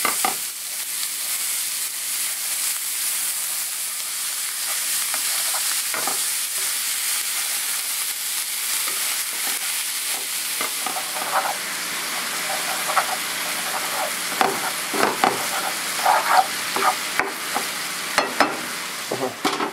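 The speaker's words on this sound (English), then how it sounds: "as you brown it, you want to break it up a lot because it's you don't want big chunks in the chili" Ground beef for chili browns in a pan, sizzling and frying steadily while a utensil stirs and breaks it up, with intermittent scraping clicks near and clear throughout and no talking.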